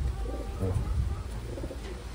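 Taiwan pigeons coo in a brief, low, murmuring burst, close by against a steady background hum.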